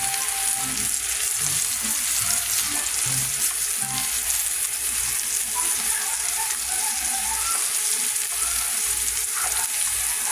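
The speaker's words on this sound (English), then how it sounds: "here's my salmon cooking. It's probably been cooking about a minute." Salmon with garlic fries skin side down in a hot pan, giving a constant dense sizzle and crackle that stays loud and close throughout, with no voices.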